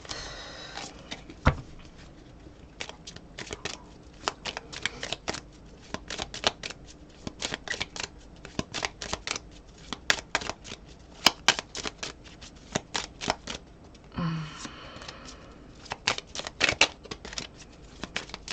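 Tarot cards are handled and shuffled at close range: repeated crisp riffles and snaps come in irregular bursts over a faint background, with no voice.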